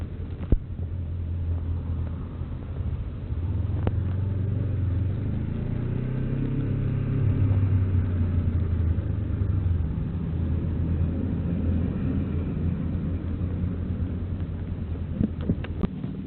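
A car pulls in off a small-town road to get gas, its engine a low, steady rumble that swells and eases slightly as it slows, with a few faint knocks near the end and no voices.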